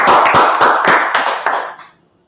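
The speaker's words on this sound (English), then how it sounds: "let's clap it up real quick" A small group at a brotherhood class in Minneapolis claps together in a few loud, close bursts that quickly taper off and stop, leaving silence.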